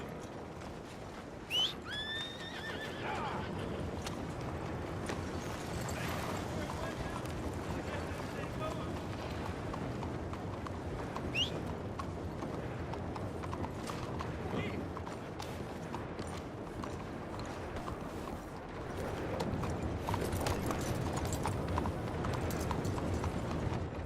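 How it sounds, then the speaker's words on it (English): Horse hooves clip-clopping in Red Dead Redemption 2, a steady rhythmic clatter running the whole way under ambient wind and outdoor noise, with occasional voices. "Remember to rest that horse sometime."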